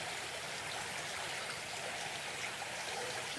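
A river flows steadily through an ancient forest, a constant broad rushing wash of water that stays even and close throughout, with no voices.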